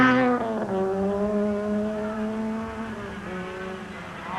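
An Opel Astra GSI 16-valve rally car drives a special stage at Lousã/Relvas in the 1996 Rally de Portugal. Its engine sings loud and near, rising in pitch and then holding a strained, sustained note through the gears.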